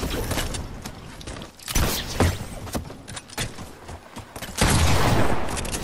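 Gunfire in Fortnite comes in repeated sharp cracks and short bursts, some louder and closer than others, over a busy, clattering game background.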